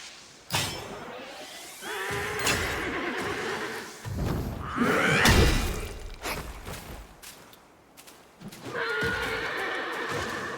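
A monk enemy in the Black Myth: Wukong video game lets out repeated loud, horse-like neighs and whinnies in several bursts, with clip-clop and sharp whooshing hits between them, no speech.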